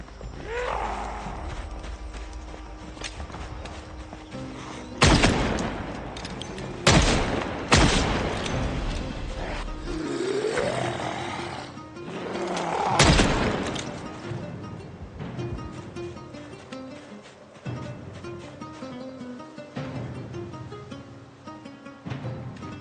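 Video game gunfire in Project Zomboid as zombies are shot, several loud booming shots spaced seconds apart over a steady background of ambient game sound, with no talk.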